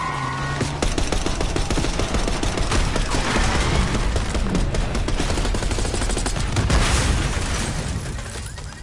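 Heavy, sustained gunfire from Call of Duty: Black Ops 6, automatic bursts and loud booms rattling continuously at close range with almost no pause, fading slightly at the end.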